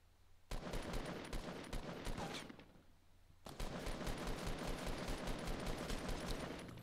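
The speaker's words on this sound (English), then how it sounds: "Some gunshots here." Rapid automatic gunfire rattles in sustained bursts in early Fortnite gameplay, with a short pause between two long, dense volleys of shots.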